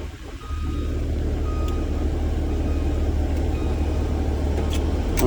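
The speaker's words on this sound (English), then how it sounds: "put it in reverse to indicate, or to verify that my reverse indicator is working" Inside a school bus during a pre-trip check, the reverse indicator sounds as the bus is shifted into reverse, over the continuous low rumble of the idling engine.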